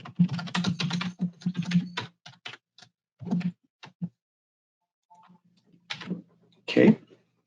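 Typing on a computer keyboard, including the caps lock key, with someone speaking between bursts of clicky keystrokes and a couple of louder key taps near the end.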